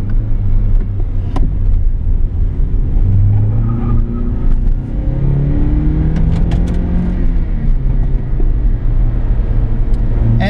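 A 2004 Toyota Celica GT's 1.8-liter four-cylinder engine hums and revs while driving, rising and falling in pitch over a steady road rumble, loud and close.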